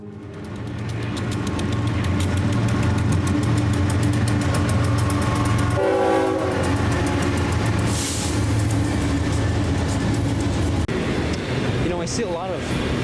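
An eastbound BNSF freight train of vehicle cars, led by a GBO and a Dash 9 locomotive, rumbles steadily past up close, with a loud blaring horn sounding in the middle and wheel and car noise throughout.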